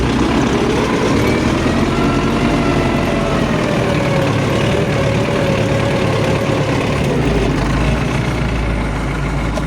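An MTZ-82 tractor engine runs steadily and loudly while cultivating a sunflower field, a continuous deep diesel drone with a slight idle-like throb throughout, no talk.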